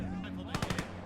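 An MG42 machine gun fires in the World War II strategy game Gates of Hell, a short rapid burst of four or five close, punchy shots over steady background battle noise.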